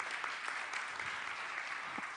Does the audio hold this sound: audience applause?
yes